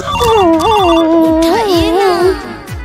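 A mobile phone plays a loud melodic ringtone up close, with a bright rising and falling tune repeating for about three seconds.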